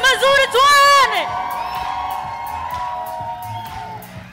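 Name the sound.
church congregation applauding and cheering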